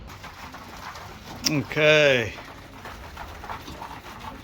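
Pigeons coo once in a short, rounded burst close by, with a brief flutter or call just before, against a quiet outdoor backdrop; a person says a single word.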